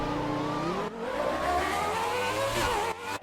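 F1 race cars in a video game roar off the start of a race, a dense layered engine drone with rising revs and gear changes from several cars close together, loud and steady with brief dips.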